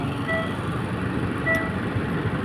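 A container freight train passing a railway crossing whose barrier is broken, a steady, close, loud rumble throughout with faint high tones rising above it.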